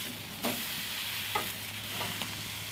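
Steak searing over an open wood fire gives a quiet, steady sizzle and hiss, with a few soft pops and crackles and no talking.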